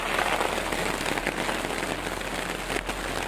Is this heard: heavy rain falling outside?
yes